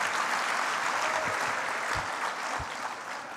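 Applause from an audience at an investor summit in Indonesia, steady and fairly dense crowd clapping heard a little distant, slowly fading toward the end with no voices over it.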